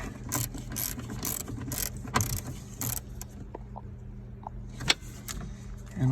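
A hand ratchet clicks in quick repeated bursts while snugging the mounting bolts on the gas pedal of a 2009 Chevy Express van, close and busy, followed by a few isolated mechanical clicks and taps.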